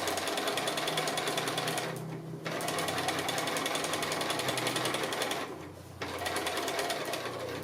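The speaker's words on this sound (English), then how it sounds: "I'm just going to follow that line along now, so giant stitches just to hold those edges together." A sewing machine bastes long, loose stitches along the edge of a quilted cushion made from 2½-inch strips, running steadily and close with two brief pauses.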